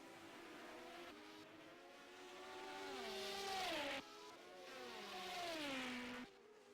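A Ferrari 12-cylinder Formula 1 race car engine in a 1978 F1 race at Hockenheim, screaming high revs that climb through gears with sharp shift drops, two rising runs in quick succession.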